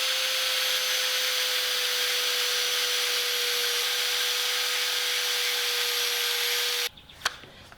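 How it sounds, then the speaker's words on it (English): An angle grinder cuts small metal tabs off a trike part, a loud, steady whine running unbroken for about seven seconds before cutting off, followed by a brief clack and quiet handling. "you can grind these little tabs off"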